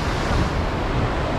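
Sea waves break along a windy Taiwanese coast with a constant, loud broadband roar, mixed with gusting wind buffeting the microphone and no voices.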